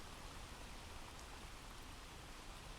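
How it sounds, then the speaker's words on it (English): Steady rain plays as a continuous, even hiss of falling drops with no pauses, filling the background at a moderate level. "Let me launch that rain sound."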